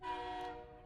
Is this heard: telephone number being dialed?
no